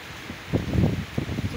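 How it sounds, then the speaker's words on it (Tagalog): Strong typhoon wind from Leon rustles through trees in gusty, swelling bursts, a steady outdoor roar of leaves that rises and falls with no one talking. "Sobrang lakas ng hangin."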